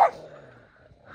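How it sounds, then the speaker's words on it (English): Outdoors on a trip in Meghalaya, a dog lets out one short sharp bark at the start, followed by a faint drawn-out whine and a low distant yelp, with no one talking. "There's gonna be a fight here. Dog fight."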